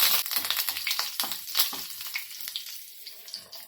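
Curry leaves sizzling in a ladle of hot oil for tempering, a bright crackling spatter with quick pops that settles into a softer hiss toward the end.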